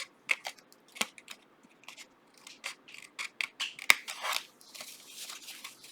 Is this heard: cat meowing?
no